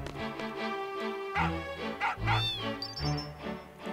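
A dog in Final Fantasy 8 lets out a few short yips and barks over game music, with no talk over it.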